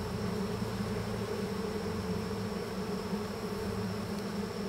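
Honey bees in a horizontal hive with no brood, buzzing loudly and continuously close by in a dense, steady drone with no talk.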